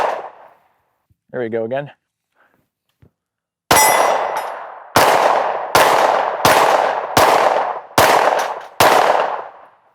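A Sig Sauer P320 XCARRY Coyote pistol firing Sig 115 grain full metal jacket rounds: after a brief spoken remark and a pause, seven loud, sharp shots ring out at a steady pace, each with a short decaying echo.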